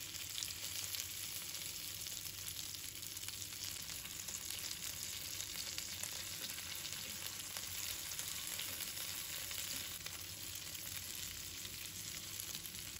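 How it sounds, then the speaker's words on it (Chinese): Chicken wings pan-fry in oil over low heat, giving a constant close sizzle that stays steady throughout with no talking. "将鸡翅煎至一面金黄之后，可以用筷子翻过来"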